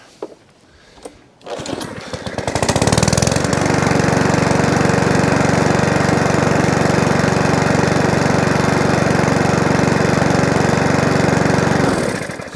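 A small petrol engine with a new spark plug, fuelled with petrol stored over winter, sputters briefly and then starts. It settles into a loud, steady, close running drone that continues until it cuts out near the end.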